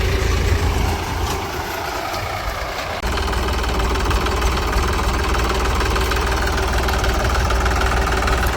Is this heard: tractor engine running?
yes